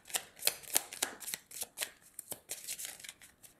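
A deck of tarot-style cards is shuffled by hand, giving quiet, rapid riffling and snapping bursts in an irregular rhythm, close up, with no talking.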